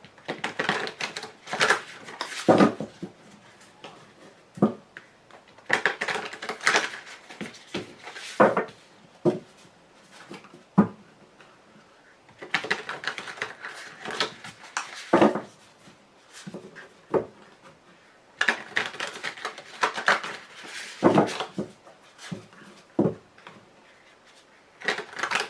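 A brand-new tarot deck being shuffled by hand, stiff cards riffling and slapping in repeated bursts of a few seconds separated by short pauses, close and crisp with no talk.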